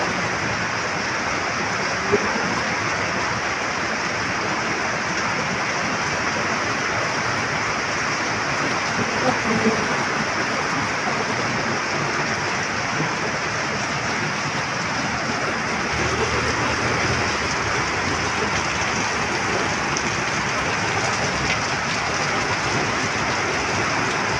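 Heavy typhoon rain pours in a steady, dense roar throughout, broadband and unbroken, with no voices over it.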